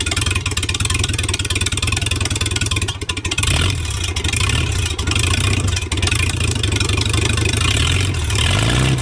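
An abandoned 1950s Rolls-Royce engine runs with the throttle held open, a loud steady mechanical drone with rough clatter, dipping briefly near the third second before picking back up and holding near.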